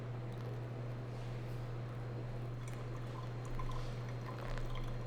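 Water poured from a kettle over coffee grounds in a V60 dripper, Pista recipe, a soft steady stream and trickle running continuously under a low constant hum, close and quiet.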